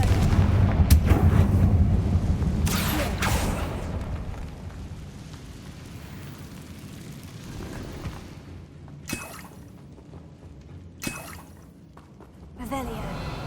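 Confringo fire-spell explosions in the video game Hogwarts Legacy, fired at spiders: several sharp booming bursts early on, then quieter isolated cracks spaced apart over a low rumbling game soundscape.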